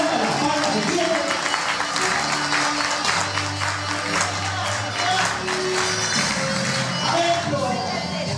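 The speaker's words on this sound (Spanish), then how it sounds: "Fuerte las palmas de pie." A standing audience at a folk peña celebrating its 25th anniversary in Lomas de Zamora claps loudly in dense, sustained applause, with a continuous crowd murmur and sung or hummed tones underneath.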